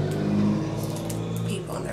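A loud car passes outside, its engine drone rising and holding steady before easing off, heard over someone talking indoors.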